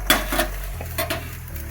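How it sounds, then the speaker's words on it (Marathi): Cumin seeds crackle in hot oil in a kadhai, a close sizzle with a few sharp pops and clinks of a spoon against the metal pan, no voices. "जिरे असे तडतडल्यानंतर आपण याच्यात घालणार आहोत लसूण"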